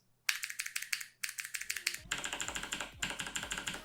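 Close, crisp typing on original Razer green mechanical switches without sidewalls, two short clicky bursts, then a denser clattering run of keystrokes with a rattly edge.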